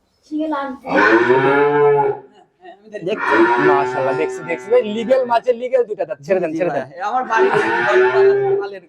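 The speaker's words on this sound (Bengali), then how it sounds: "অনেক বড় গরু তো" A large dairy cow on a farm in Kushtia lows loudly and close by in three long, drawn-out moos separated by brief pauses, with someone speaking over them.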